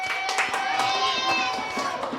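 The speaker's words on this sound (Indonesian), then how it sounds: "Tepuk tangan untuk Tasya." Classroom applause for a student at an Islamic religious studies lesson, a steady dense patter of many hands clapping together with some children's voices mixed in.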